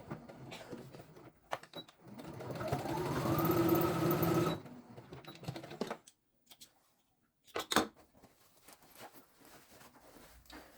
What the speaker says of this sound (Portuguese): Eu vou fechar na máquina.